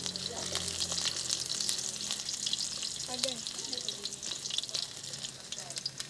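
Ginger, then skin-on garlic, sizzling as they drop into hot oil for a spicy coconut-milk chicken dish cooked outdoors, a steady close frying hiss with small crackles throughout and no talking.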